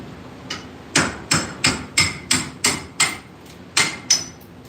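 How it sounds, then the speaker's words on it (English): A hammer strikes about ten times in a steady rhythm, each blow sharp and ringing, close and loud, with a short pause near the end. "got a hammer? We need a hammer."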